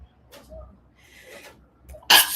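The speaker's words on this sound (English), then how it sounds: "I felt the sneeze coming." A single sharp, loud sneeze bursts out near the end after a few seconds of faint breathing and small rustles, close to the listener.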